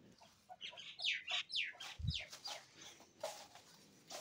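Hens in a poultry farm room giving soft clucks and higher calls in a loose, repeating pattern, fairly near and quiet, with one low thump partway through.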